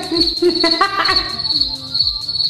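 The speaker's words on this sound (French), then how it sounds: "C'est quand il y a les grillons." Crickets chirp steadily in a loud, dense, continuous high trill, with no one speaking over it.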